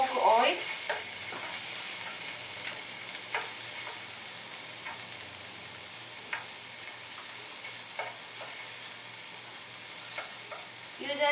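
Pork fries in its own oil in a pan, giving a soft steady sizzle with faint scattered stirring clicks and no voices.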